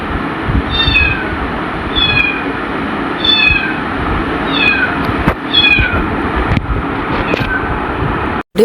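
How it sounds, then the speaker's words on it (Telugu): A lone kitten left behind by its mother meows repeatedly, about six or seven rising-falling cries spaced roughly a second apart, near and clear over steady outdoor background noise. "ఇక్కడ ఇంకొక పిల్లి పాపం, ఒక పిల్లే కదా, తనైతే అరుస్తుంది"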